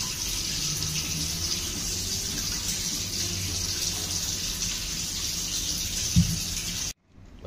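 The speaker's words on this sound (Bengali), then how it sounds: "বর্তমানে শাগকে আউথরে ধোয়া হচ্ছে, কারণ ছোট বালি ফালি কিছু যদি অংশ থাকবে সে বাহার যাব" Kosala leutia saag greens are rinsed under a steady stream of running tap water, a continuous close splashing that cuts off abruptly near the end.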